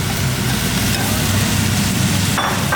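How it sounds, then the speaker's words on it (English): Food browning in a pan is stirred as it cooks, a steady low sizzle and clatter running continuously at moderate loudness with no talk. "Give it a nice stir."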